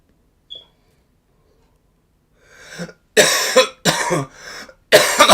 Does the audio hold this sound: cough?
yes